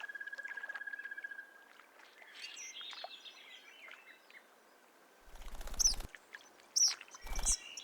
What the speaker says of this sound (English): The birds resume their normal activities